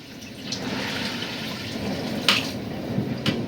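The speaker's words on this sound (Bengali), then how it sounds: "এখন পরিমাণ মতো পানি দিয়ে দিব" Water is poured into a pot of khichuri (rice and lentils) in a village kitchen, giving a steady splashing pour with a few louder gushes and no talking.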